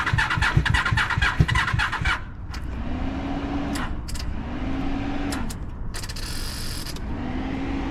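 A motorcycle engine that will not keep running: a rapid, close pulsing idle for about two seconds cuts out, followed by mechanical whirring, clicking and repeated attempts to restart.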